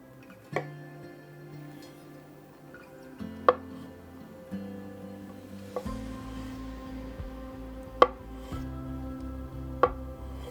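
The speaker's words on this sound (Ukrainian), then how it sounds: "Нарізаю яйця кільцями." A knife taps sharply against a board a handful of times at uneven intervals, slicing boiled eggs into rings, each cut a quiet distinct knock over steady low background hum.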